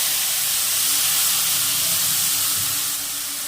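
A tomato and spice paste of turmeric, cumin, coriander powder, salt, sugar and chilli powder hits a hot pan, letting off a loud, continuous steamy sizzle that eases slightly near the end.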